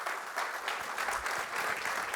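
Applause from a conference audience after a Python keynote talk, steady dense clapping throughout, moderately loud and continuous with no voices on top.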